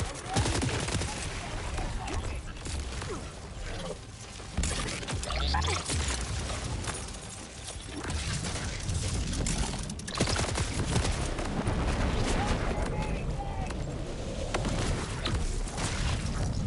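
A grenade tossed into a video game firefight, bursting amid continuous dense gunfire and heavy booms that fill the whole stretch without a break.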